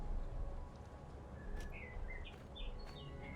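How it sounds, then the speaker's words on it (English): Birds chirp outdoors in a few brief, faint calls scattered over a steady low rumble of background noise, with no voices. "Yes, there are birds outside."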